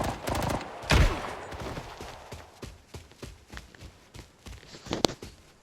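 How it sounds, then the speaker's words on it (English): Gunfire in the shooter game Arena Breakout: a loud close burst at the start, then scattered shots and footstep-like thuds through the rest, one sharp crack near the end. "Gunshots at motel."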